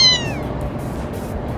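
A kitten gives one loud, close meow with a falling pitch, followed by a steady noisy background with no talking.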